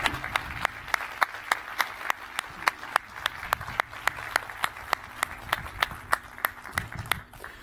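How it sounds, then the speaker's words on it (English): Audience applause at a university presidential convocation, a sparse, fairly faint round of claps with distinct individual hand strikes and a faint voice now and then. "you deserve a round of applause for your spectacular leadership over these last 18 months and more"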